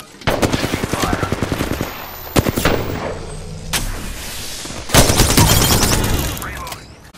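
Rapid automatic gunfire from an Apex Legends match, loud close bursts of shots in several volleys with brief pauses between them, mixed with game sounds and a voice talking.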